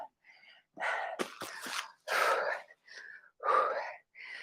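Heavy breathing during a low-impact yoga workout: a series of loud, forceful breaths and gasps, some sharp and some drawn out, in quick irregular bursts close to the microphone.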